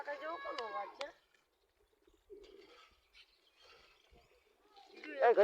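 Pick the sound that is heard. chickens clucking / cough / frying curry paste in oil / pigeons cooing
pigeons cooing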